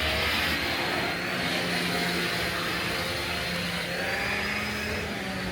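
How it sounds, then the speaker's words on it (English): A Hoover vacuum cleaner runs continuously with a loud, steady whining drone that fills the room, heard alone with no talking. "You probably didn't hear any of that because the Hoover was going."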